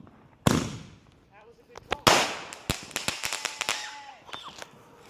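Fourth of July fireworks and firecrackers go off outdoors, starting with a loud bang and followed by a ragged series of sharp cracks and pops at varying distances, with voices nearby.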